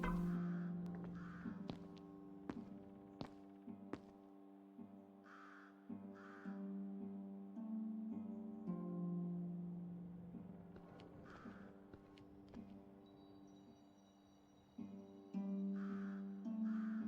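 Crow caws repeat in short bursts from a video game, Detective Malinowski, set outdoors, heard over a steady tonal music bed with sustained notes and occasional sharp hits. No voices.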